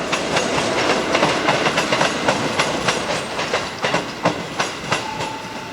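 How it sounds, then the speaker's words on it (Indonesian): A commuter train arriving at a station in Indonesia rolls past close by, wheels clattering over rail joints in a rapid repeating rhythm, loud and continuous with no one speaking. "Ini kereta yang baru tiba dari Tanah Abang"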